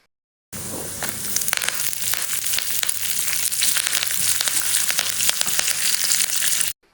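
Tempering of cashews and curry leaves frying in oil to golden brown for curd rice, a steady dense sizzle with crackling pops throughout, close and fairly loud with no talk.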